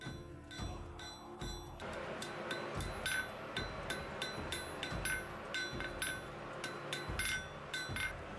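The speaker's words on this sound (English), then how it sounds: "Next, I thin and flatten the metal to make the pendant light enough to wear." Metal being hammered thin and flat for a forged Viking rune pendant, with sharp, regular ringing hammer strikes about every half second, close and clear, with no talking.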